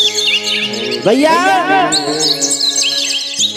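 During a devotional Ramdhuni kirtan, bright swooping and warbling chirps mimic birdsong, most likely a voice imitating the sound, loud and close over sustained tones, with a brief spoken word.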